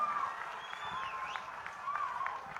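Applause from the audience at a political speech honouring Chief Minister Nara Chandrababu Naidu, a steady wash of clapping and crowd noise with whistle-like tones and some voices mixed in.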